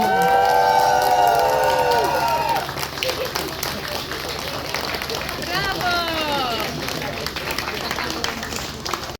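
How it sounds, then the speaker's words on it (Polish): A crowd at a children's festival stage in a town square cheers and claps, a loud sustained roar of voices with children shouting, after an announcer's amplified voice calls out over it. "A wszyscy wiwaty, wiwaty!"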